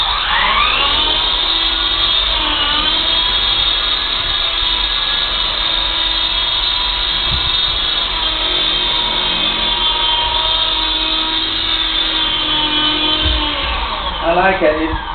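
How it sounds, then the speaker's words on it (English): A small MJX F45 remote-control helicopter's high-pitched motor whines steadily up close, the pitch holding level before dropping away at the end. "Let's get the helicopter down."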